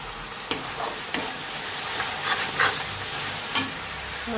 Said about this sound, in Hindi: मसाले अच्छे से भून गए